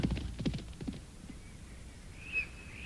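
Galloping hooves of a black steed race past in a spooky Sleepy Hollow Halloween sound effect, a rapid drumming rhythm loud at first then fading away, followed by a faint high whistling or bird-like tone.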